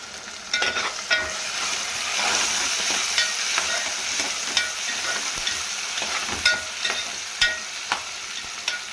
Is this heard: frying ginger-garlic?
yes